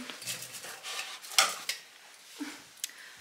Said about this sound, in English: Just putting a teaspoon of that in their breakfast every day.